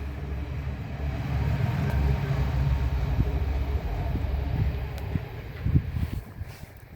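A train passes by near a rural garden where wild herbs are gathered, a steady low rumble that swells and holds for several seconds, with faint rattling bumps toward the end.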